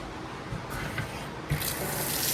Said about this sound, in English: And we'll check to make sure the faucet runs.